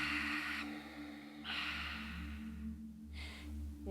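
Slow Ujjayi breaths during a beginner yoga session: soft, throaty, airy exhales and inhales come in three separate passes, close and quiet over a low steady background hum.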